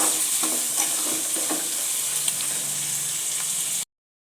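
Chicken seasoned with salt and turmeric being stirred in a hot pan over high flame for pepper chicken, with a steady loud sizzle and scattered scraping stir strokes, no talking.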